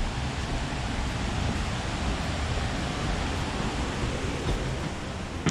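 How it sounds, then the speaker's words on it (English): Constant rushing roar of a river running next to a holiday rental near Yosemite, close and fairly loud, an unbroken wash of water with light wind buffeting. "We're next to a river."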